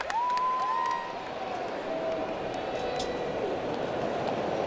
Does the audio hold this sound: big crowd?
yes